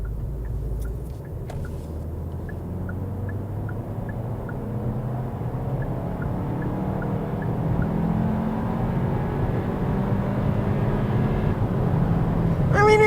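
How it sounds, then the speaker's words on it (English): A 2024 Hyundai Kona's engine drones steadily while accelerating on the road, a continuous low hum that grows slightly louder and rougher toward the end, with road noise underneath. "For the most part, the engine is quiet. It really sounds kind of bad when you're giving it a lot of throttle"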